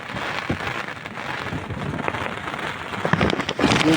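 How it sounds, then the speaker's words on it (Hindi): Heavy rain pours steadily, a dense hiss of drops drumming on surfaces, growing slightly louder toward the end. "हमारे बहुत बारिश हो रही है।"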